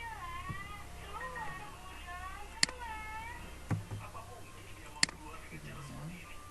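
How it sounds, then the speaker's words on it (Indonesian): A pet cat meows several times in a quiet room, the cries rising and falling in pitch, with a few sharp clicks in between. "Kucing peliharaanmu dengan cara begini pasti mau keluar"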